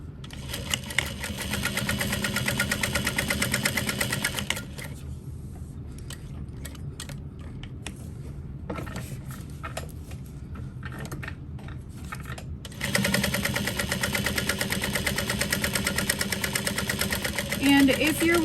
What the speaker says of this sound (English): Okay, so I'm gonna top stitch around the outer edge.